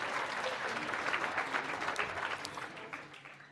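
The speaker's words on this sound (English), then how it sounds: "A round of applause to him, please" An evening awards ceremony crowd applauds for the CEO, a dense wash of clapping at moderate distance that swells briefly and then tapers off.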